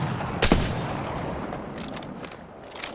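Gunfire in the video game Apex Legends, with one sharp loud shot followed by a few quicker, fainter bursts of fire at intervals over a low background rumble.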